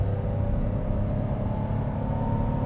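Engine of a 2025 Toyota Wigo G with CVT transmission droning steadily under acceleration, a constant low rumble and whir with no rise in pitch, heard from inside the cabin.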